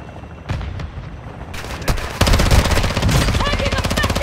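Loud rapid automatic gunfire and sharp shots erupt in Call of Duty DMZ, starting with scattered bursts and building into sustained close fire.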